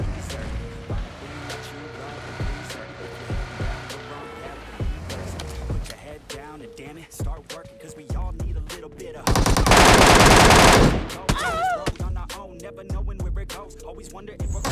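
Gunfire from an MK14 rifle in PUBG Mobile, heard as a dense, loud burst of shots lasting about two seconds midway, with scattered sharp single reports and voices talking throughout the rest of the game audio.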